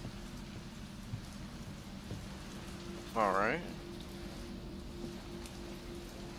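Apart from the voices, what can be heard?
heavy rain outside in video game Resident Evil 3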